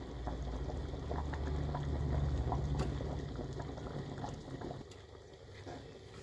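A pot of Hyderabadi tomato shorba simmers on medium heat, giving a steady low bubbling and gentle liquid churning that holds evenly throughout with no talking.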